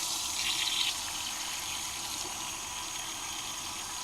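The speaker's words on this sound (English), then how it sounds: "I'm going to add more water because I do need to cover all of this" Tap water runs steadily into a large cooking pot for hog head cheese made from a pig head, a continuous hissy splashing stream that stays even throughout, close and moderately quiet.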